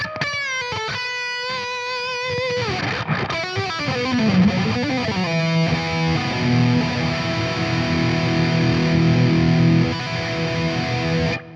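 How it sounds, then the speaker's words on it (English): A StoneTone Rock Block Strat-style electric guitar played clean with bright, ringing notes and chords, moving into fuller sustained strums with a slight edge, steady and fairly loud throughout. "it is a pretty amazing sounding guitar"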